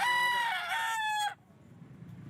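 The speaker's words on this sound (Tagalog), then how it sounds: "Ito yung mga bulik." A bulik rooster crows at a busy pet market. The single loud, close crow is harmonically rich and rises and falls for about a second before it cuts off abruptly, leaving quiet market murmur behind.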